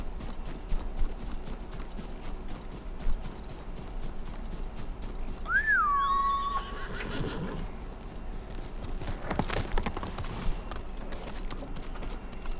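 Horse galloping in the video game Ghost of Tsushima: a steady stream of clopping hooves throughout, with one clear, loud whinny near the middle and no speech.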